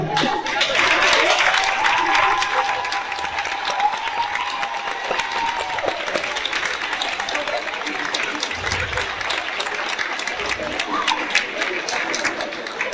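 Sustained applause from a big crowd at a beauty pageant, with scattered cheers and shouts rising above the dense, steady clapping.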